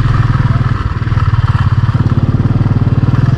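A loud motorcycle engine thrumming steadily at close range on a hilly mountain road ride in Bihar, a rapid low pulsing beat with clatter and crackle throughout.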